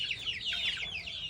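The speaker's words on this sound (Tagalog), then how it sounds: "Yung inahin na manok." Hen clucking on a farm: a run of quick, repeated clucks, close and fairly loud, with no voices over it.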